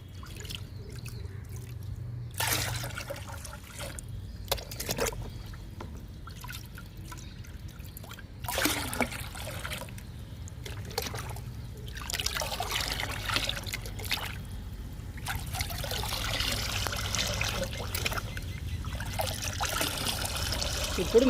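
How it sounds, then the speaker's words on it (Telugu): Water is poured from mugs into a container to dilute a liquid fertilizer made from oats and kitchen waste, heard as several separate splashing pours and trickles with short pauses between them, close by. "3 మగ్గులు పోద్దాము."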